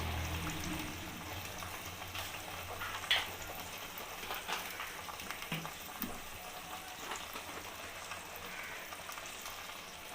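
Green peas go into spices frying in a kadai for a cauliflower and potato omelette curry, giving a soft, steady sizzle with faint crackles and stirring clinks close by.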